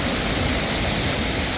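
A waterfall in Lombok, Indonesia, a loud, steady rushing roar of falling water, broad and unbroken for the whole stretch, close by with no voices.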